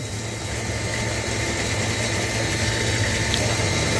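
A solar-powered 3-inch water pump, a 900 W unit run from two 550 W panels, pushes water into a 1000-litre tank. It gives a steady, loud wash of rushing flow over a constant low motor hum, with no talking.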